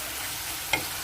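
Beef fat cracklings fry with a cooked-down spice paste in a pan, a steady close sizzle with a brief bright clink of a spoon near the end.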